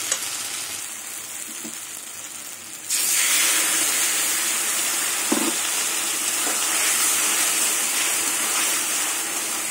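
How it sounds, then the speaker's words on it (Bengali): Water from rinsing a mixer jar poured into a hot pan of potatoes and garlic-mustard-poppy paste for a drumstick chorchori, bursting into a loud, steady sizzle and hiss that lasts to the end after a quieter start. "এবার আমি মিক্সি বাটি ধোয়া জলটা দিয়ে দেবো।"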